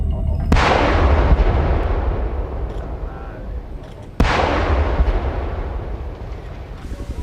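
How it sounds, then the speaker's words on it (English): Explosive charges blast craters into a narco airstrip runway in Peru: two sharp, loud detonations about four seconds apart, each followed by a long rumbling roar of debris and echo. "the team now prepared to blow craters along the runway to prevent them from using this one"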